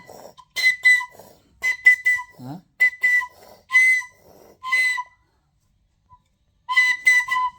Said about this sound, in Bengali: কি বাঁশি বাজাইতেছো তুমি? বাঁশি বাজাইতে পারো?